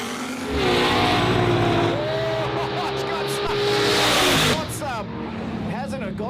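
Lamborghini and Datsun wagon accelerating hard at a street drag race, loud sustained engine roar rising through gears, then fading as the cars pull away, with a commentator talking over it.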